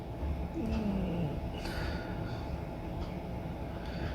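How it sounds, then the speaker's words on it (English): A train hauling a long line of goods wagons rumbles steadily, a low continuous roll with faint squeals above it, moderately loud and alone with no voices. "She was pulling a goods train"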